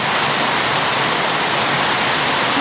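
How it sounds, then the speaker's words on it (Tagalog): Heavy rain pouring down steadily, a dense, loud, unbroken hiss of falling water with no voices or other sounds. "lakas ng ulan"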